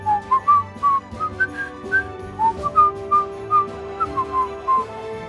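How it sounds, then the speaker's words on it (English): A person whistles a cheerful Christmas tune alone, a bright melodic line of short and held notes in a steady rhythm with no talking. "I waved goodbye and walked home, whistling a Christmas tune along the way."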